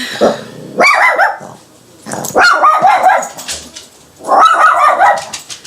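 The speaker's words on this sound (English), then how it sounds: "these two dogs have popped off" Two dogs bark loudly and close by in three rough bursts of barking and yips with growly edges, separated by short quieter gaps.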